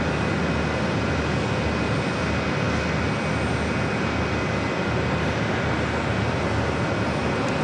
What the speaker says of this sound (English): And this is JetBlue Airways Flight 2719. We'll be heading to Atlanta, Georgia in this A320.